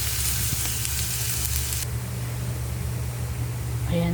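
Garlic fries in a little oil in a pan with a loud, steady sizzle that hisses brightly at first, then settles into a lower crackle near the end.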